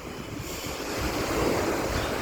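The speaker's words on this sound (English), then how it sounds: "to come and see the Adriatic Sea" Adriatic Sea surf washing onto the beach at Pescara, a steady broadband wash of breaking waves swelling slightly louder midway, with some wind noise on the microphone and no voices.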